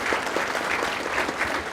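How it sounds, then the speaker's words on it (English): An audience at the Early College Academy graduation ceremony applauds steadily with many hands clapping at once, a dense, continuous patter of moderate loudness with no voices standing out. "You can clap if you want."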